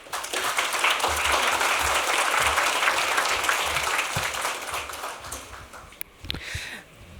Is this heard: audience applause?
yes